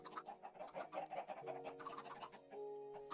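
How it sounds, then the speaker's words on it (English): Minecraft chickens cluck in the game, soft repeated short clucks at low volume over faint steady game tones, with no voices. "But there's more chickens down here now."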